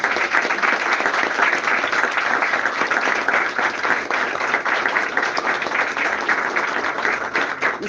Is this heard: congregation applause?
yes